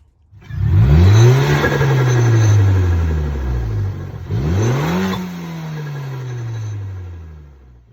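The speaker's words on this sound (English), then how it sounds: "So I'm going to give you a little video of that and how it sounds." A turbocharged Abarth Punto engine with a cold air intake revs up hard twice, each surge climbing then slowly falling away, loud and close with a deep rumbling whine and no talking.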